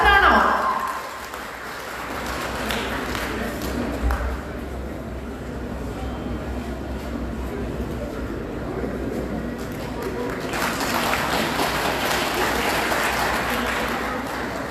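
An audience at a Lions Club event in Vannappuram breaks into applause, clapping rising after a loud start and swelling again toward the end, with a voice talking over it through much of the stretch.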